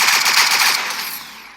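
Rapid automatic gunfire in a shooting video game, a loud close burst of about ten evenly spaced shots that then trails off into a fading echo.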